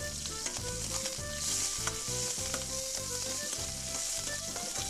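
Cabbage and sausage fry in a hot pan with a loud, steady sizzle, with repeated rhythmic clatter from stirring throughout and no talking.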